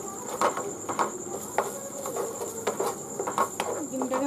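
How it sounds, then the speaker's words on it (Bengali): Beaten egg poured into hot oil in a home kitchen pan, giving a soft continuous sizzle with light crackling pops scattered throughout, close and fairly quiet, with no talking. "এতে এবার মিক্স করা ডিমটা ঢেলে দেবো, দিয়ে ডিমটাকে ভালো করে ভেজে নেব।"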